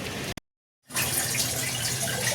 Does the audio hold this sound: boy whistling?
no